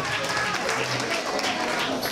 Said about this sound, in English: come on, round of applause for yourself